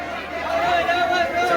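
Steady chatter from a large crowd assembled in Latur on Ramzan Eid, with mixed voices blending into continuous babble close around the listener.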